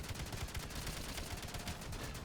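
Continuous rapid gunfire in Black Ops 7 Zombies, a steady, dense rattle of shots at moderate loudness throughout the brief stretch, with no talk.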